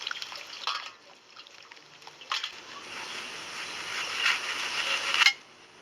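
Dragon fruits rinsed in water by hand at a fruit nursery: splashing and trickling water with soft handling noises, a few louder splashes near the start and middle, steady washing sounds, ending abruptly.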